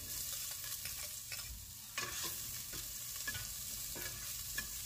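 Onion, garlic and ginger sautéing in a little oil in a pot, a steady close sizzle with repeated scraping stirs of a utensil throughout, no voices.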